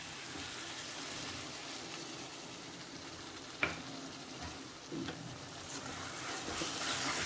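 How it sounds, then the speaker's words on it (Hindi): Yogurt goes into a pan of radish and gram-flour sabzi with spiced cooked radish, followed by steady frying sizzle and a few clinks and scrapes of stirring, close and moderately loud, with no talk. "और अब हम इसमें हमने जो दही लिया है वो डालेंगे।"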